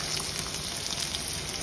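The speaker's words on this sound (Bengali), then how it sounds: "পেঁয়াজটা একটু ভাজতেছি, একটু ব্রাউন কালার হয়ে আসছে।" Chopped onion fries in hot oil in a wok as it turns brown, giving a continuous, even sizzle and crackle close up with no voices.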